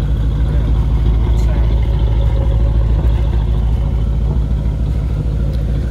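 A 1937 Ford convertible with aftermarket mufflers rumbles steadily as it drives down the street, a low, loud engine drone throughout with voices talking over it.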